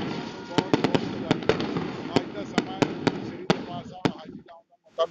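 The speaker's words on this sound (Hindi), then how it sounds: "आतिशबाजी इत्थे देखने बहुत अलौकिक नज़ारा बनिया पिया।" Fireworks at a Sikh celebration of Guru Tegh Bahadur's prakash purab in Punjab, a string of sharp cracking bursts at irregular intervals over a murmuring crowd and voices, fading out near the end.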